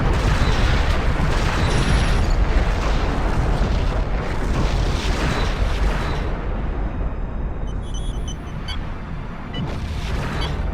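Explosions from a destroyed Romulan vessel in the Star Trek Legacy space combat game: a dense, loud, sustained rumbling blast with heavy low-end roar that fades slightly toward the end, with no talk.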